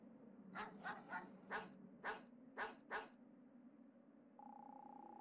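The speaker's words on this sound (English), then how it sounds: "But the only things living here now are the dogs" Dogs in the MegaMan Legends video game bark seven times in a quick uneven run over a constant low game hum, and a steady electronic tone comes in near the end.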